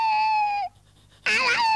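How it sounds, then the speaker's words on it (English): A dog in an animated clay cartoon whimpers twice in high, wavering cries. A short silence separates a long, falling whine from a sharper, louder yelp. "He's become a dog."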